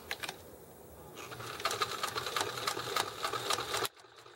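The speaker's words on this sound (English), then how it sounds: "Kenmore sewing machine that I rescued out of the garbage" A Kenmore sewing machine, salvaged from the garbage, runs steadily with a rapid mechanical clatter close by, then stops abruptly near the end.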